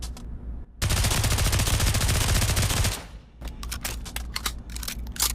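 Uzi submachine gun firing in the VR game Pavlov Shack, one long loud sustained burst of rapid automatic fire lasting about two seconds, followed by a scatter of short sharp clicks and shots.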